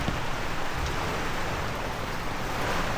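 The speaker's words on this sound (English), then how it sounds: "That stops all the rain coming in the back." Steady rain patters continuously and evenly over a camping setup with a back cover, a dense unbroken hiss with no voices.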